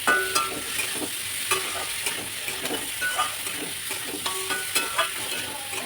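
Fried fish and boiled potatoes sautéed with spices in a pan, a steady sizzle broken by repeated scraping and knocking of the spatula, close and without talk.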